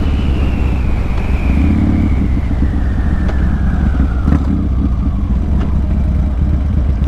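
Motorcycle engine pulling in first gear on a road, a steady loud drone with a slowly falling whine under heavy wind rumble, continuous throughout.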